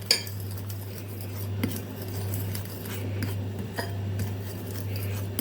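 A metal spoon clinks and scrapes against a bowl in irregular taps while batter with flour is stirred, over a steady low electrical hum.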